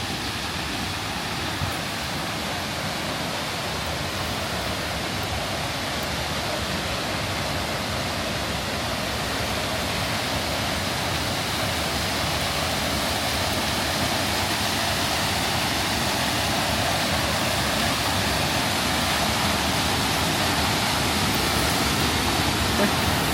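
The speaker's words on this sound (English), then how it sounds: "Holy cow, the falls are like right there." The waterfall at Rifle Falls roars close by as a steady, dense wash of white noise that fills the whole span without letup, loud and unbroken, with no voices over it.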